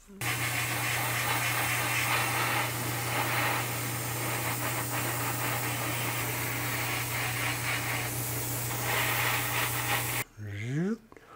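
Spray gun painting car parts for a 1969 Mustang inside a paint booth, a steady loud hiss with a constant booth fan hum running throughout, cutting off near the end.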